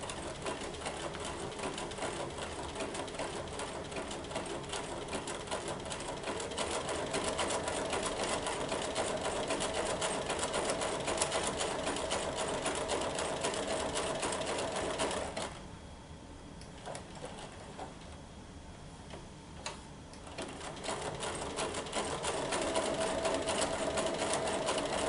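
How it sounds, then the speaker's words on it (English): A sewing machine stitches slowly around blue quilt sections, a long, even, moderately loud mechanical hum and needle chatter, briefly dropping quieter in the middle before resuming at full steady pace. "I'm just going to start stitching slowly"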